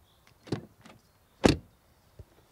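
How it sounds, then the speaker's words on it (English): Mercedes-AMG GLC 63 S SUV door, a few soft clicks and a light thud followed by one solid, firm closing thump, then a faint latch tick, close and otherwise quiet. "Door closing sound."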